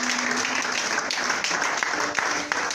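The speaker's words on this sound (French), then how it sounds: "Acclame Dieu, acclame Dieu," A church congregation applauding during a French-language seminar: dense, sustained clapping fills the space, with voices mixed in underneath.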